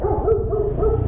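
A dog barks and yips at a house where a delivery rider stops, giving a short run of quick, close, agitated barks.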